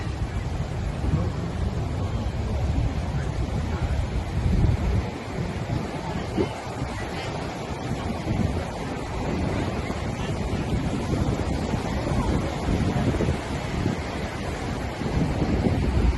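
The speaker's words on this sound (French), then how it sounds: "beaucoup de vagues, mais normal, c'est un jour de vent" Continuous roar of surf with waves washing in on Tawaen Beach, Koh Larn, near Pattaya, on a windy day, mixed with steady wind noise on the microphone throughout.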